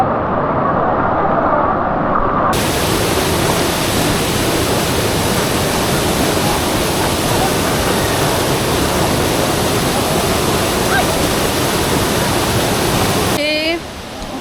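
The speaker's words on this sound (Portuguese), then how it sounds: "a cachoeira aqui, essa cachoeira, ela é chamada a Cachoeira do Formiga" Cachoeira do Formiga waterfall in Jalapão, Brazil, roaring loud and close as a dense, unbroken rush of falling water, with a sudden surge in level at the start after a quieter opening.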